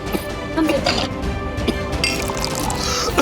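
Water poured from a container into a glass or vessel during an indoor Hindi TV drama scene, a steady liquid splash running throughout, heard beneath people talking nearby.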